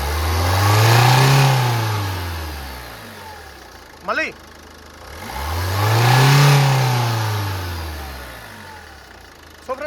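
A 2015 Ford Figo Aspire Titanium diesel engine is revved twice, each rev rising and falling smoothly back to idle. The engine is loud and close, and a voice speaks briefly between the revs.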